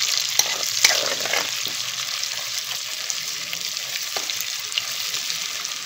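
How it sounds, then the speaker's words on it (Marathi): Chopped onion sautéing in a pan of hot oil while a paneer pulao is cooked, giving a steady bright sizzle throughout with a few sharp crackles and stirring clicks near the start. "त्यात थोडासा कांदा, आणि हा परतून घेऊ आपण."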